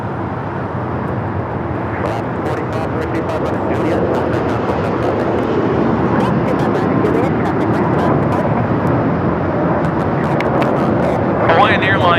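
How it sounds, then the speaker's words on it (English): A Hawaiian Airlines Airbus A321neo takes off at LAX at night, its engine roar steady and loud throughout, with people talking over it. "Hawaiian Airlines 963 taking off to Lahui on the A321neo."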